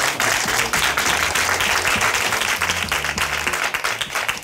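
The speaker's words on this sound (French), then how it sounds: "pouvez applaudir la compagnie Art Move." An audience applauds a dance company after a performance, dense sustained clapping with some crowd noise and a low musical hum underneath, staying loud and even before thinning slightly at the end.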